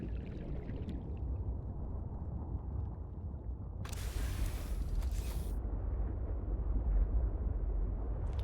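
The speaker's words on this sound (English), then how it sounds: "Where was that explosion coming out of?" A geothermal vent in Subnautica Below Zero erupts with a sudden hissing, bubbling burst lasting about two seconds, heard over a low, steady underwater rumble.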